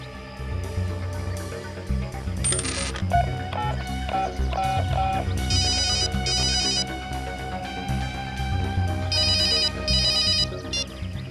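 A phone ringtone plays loudly on its own after a number is dialed, a repeating electronic melody in short bright phrases with brief gaps between them.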